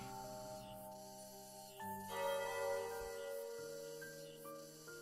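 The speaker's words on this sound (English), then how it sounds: "The hall bell tolls in the distance for some time in the afternoon, resounding through the air." A hall bell tolls far off in a video game, its sustained ringing tones layering and decaying steadily, moderately quiet with no talking.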